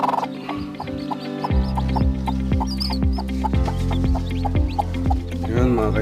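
A native hen clucks low and repeatedly among newly hatched chicks on their second day, whose high, rapid peeps chirp steadily over the rhythmic clucks, close and clear.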